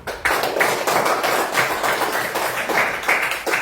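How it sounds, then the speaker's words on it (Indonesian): Students applauding in a classroom after a group activity on food-chain dioramas, a close, moderately loud burst of clapping in uneven waves, with a few sharp taps and no talking. "tepuk tangan untuk kita semua"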